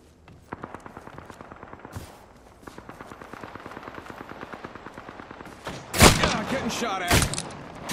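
Rapid gunfire aimed at the player in a battle royale video game: a long string of quick, even shots, then two sharp, loud bursts near the end, with faint in-game voices underneath.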